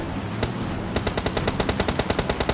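Automatic gunfire in the PUBG Mobile Lite battle royale game during a solo-versus-squad rush, heard as a fast, evenly spaced string of loud, close shots after an opening shot.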